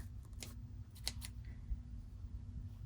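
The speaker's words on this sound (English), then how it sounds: "Trim off that thread." Scissors snip thread on a sewn hexagon log cabin quilt block, two or three quick, faint, close clips over a low steady hum, with no talking.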